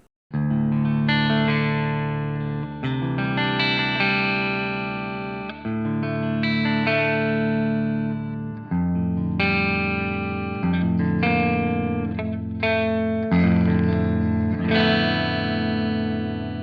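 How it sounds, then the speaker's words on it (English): Clean electric guitar with active pickups, a Schecter Blackjack C-1 ATX, playing chords and arpeggios with a bright, polished tone, loud and continuous with no talking. "I know a lot of people don't appreciate the clean tones on active pickups"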